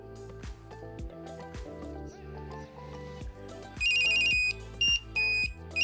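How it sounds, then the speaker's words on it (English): A Pebblebee Bluetooth tracker rings when triggered by Siri, a bright repeating electronic chirp pattern that starts midway through, heard over steady background music. "you can actually ask Siri to ring your Pebblebee"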